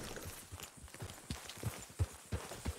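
Horse hooves trotting across ground in Red Dead Redemption 2, a run of close, dull thuds in a loose rhythm over a faint background hiss.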